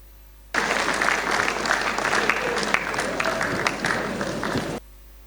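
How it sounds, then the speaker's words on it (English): An audience at a Rotary Club district plenary session bursts into applause, starting abruptly, holding loud and dense with scattered sharp claps, then cutting off cleanly after about four seconds. "District Governor said we should clap, please."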